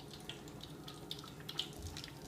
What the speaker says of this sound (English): let's just add it in there and some of the water